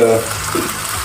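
Water is poured into a cooking pot of beef for a Goan beef roast, a steady rushing, splashing wash that lasts about a second, with faint voice traces early on.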